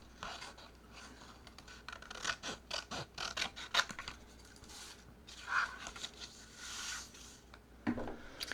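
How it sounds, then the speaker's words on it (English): Sections of a paper pocket frame are cut out by hand: quiet, intermittent snipping, scratching and rubbing in close irregular bursts, with short pauses between. "then to me it's kind of easy to get in there and just cut out each section"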